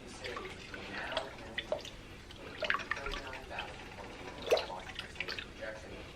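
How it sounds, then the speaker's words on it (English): Worcestershire sauce splashes and drips into a pot of hamburger vegetable beef soup in a home kitchen, a series of small, irregular liquid plinks close by. "Now, I'm gonna go in with some Worcestershire sauce."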